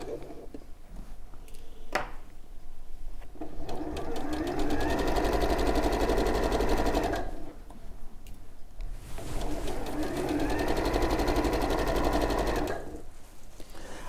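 A sewing machine stitches a butterfly appliqué cushion in steady, loud runs of rapid mechanical whirring, separated by short pauses, with no talk over it.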